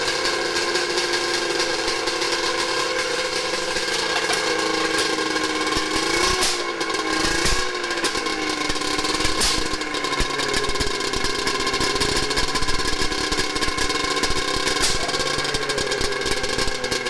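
A 100 hp drift trike engine idles close by with a steady, rough mechanical drone and a wavering pitch, running on its own with no voices throughout.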